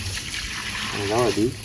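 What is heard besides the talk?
Ganga kund water poured onto trees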